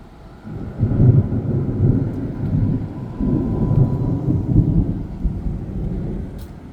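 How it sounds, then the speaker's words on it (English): A thunderstorm rolls in outdoors with flags stirring in the wind, bringing low, heavy rumbling thunder that swells in two long waves over a rain-like wash, fairly loud, with no talk. "We got some raindrops falling now."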